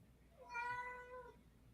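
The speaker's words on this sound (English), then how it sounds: "I hear a cat." A single cat meows once, a faint, drawn-out cry lasting under a second against quiet background hiss.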